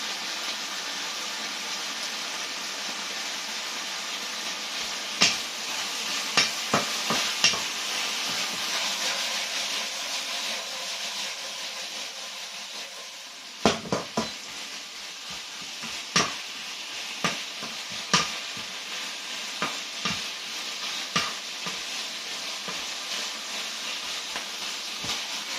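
Food sizzles and hisses in a hot pan during a stir-fry with Chinese wine and sesame oil, a steady loud fry broken by the sharp clacks of stirring.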